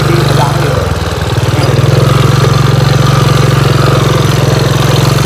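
A white motorcycle idles close by, its engine holding a steady, loud pulsing chug that dips briefly near the start and then runs evenly.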